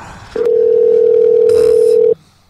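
A telephone line tone sounds while someone places a call: a single loud, steady electronic hum holding for nearly two seconds before cutting off, with faint room noise around it.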